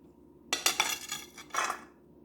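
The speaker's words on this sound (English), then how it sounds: "now we're going to put them in here with my knife" Metal knife scraping chopped celery, garlic and onion off a board into a bowl, a few sharp clinking scrapes in quick bursts, close and moderately loud, with no talking.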